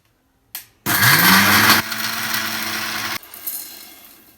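An electric kitchen mixer grinds hard dried amla (Indian gooseberry) into powder, giving a brief whir, then a loud, close, high-pitched roar for about two seconds that drops into a lower grinding drone before cutting off, followed by a shorter pulse.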